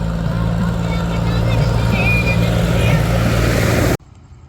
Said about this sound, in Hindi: ट्रैक्टर आ गया भाइयों